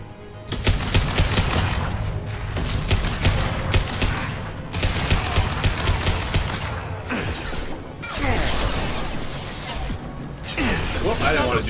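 Assault rifle fire in Mass Effect 2 comes as repeated bursts of rapid shots with booms and crashes over a dense game soundtrack, loud and near throughout.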